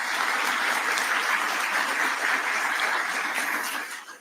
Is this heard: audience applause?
yes